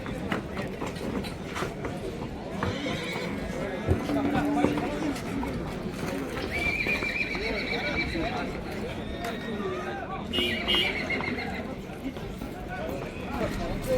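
Horses whinny and neigh at a livestock horse market in Taraz, two or three calls rising over a busy crowd and hoof clatter while people talk nearby.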